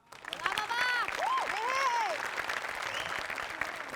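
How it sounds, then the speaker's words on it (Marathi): A studio audience at a Marathi comedy show breaks into sustained applause with a few whoops and whistles at the start, the clapping holding dense and even to the end. "सगळ्यात आधी आपण टाळ्या वाजवूया"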